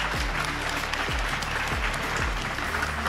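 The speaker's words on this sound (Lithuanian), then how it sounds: "Nu dar kartą plojimais pasitikite Edit AI" Dense, steady applause from a seated audience at the 2024 Lithuanian Artificial Intelligence Association awards ceremony fills the whole stretch, welcoming the Edit AI team onto the stage.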